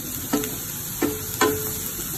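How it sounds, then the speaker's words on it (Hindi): Onions frying gently in a pan over low heat, a faint steady sizzle broken by three soft scrapes of a stirring utensil. "प्याज को हमको ज़्यादा पकाना नहीं है इसको तो सिर्फ हमको थोड़ा सा ट्रांसफर करता है इसको जलाना नहीं है हल्का हल्का सा इसको भूने"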